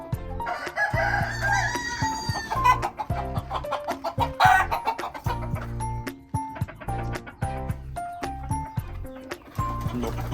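Chickens cluck and fuss continuously on a five-acre rural property, with a rooster's crow rising early on, busy and close with rhythmic knocking sounds mixed in and no talk.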